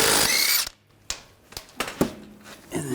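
A power tool spins a lug bolt off a front wheel of a 2009–2017 Volkswagen Tiguan, with a loud whirring burst at the start followed by several sharp ratcheting clicks and knocks as the bolts loosen.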